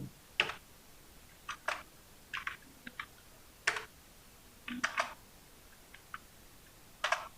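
Keys pressed on a computer keyboard, including Ctrl+Enter combinations, come as short sharp clicks in small clusters spaced about a second apart. They are close, clear and isolated, with no voice over them.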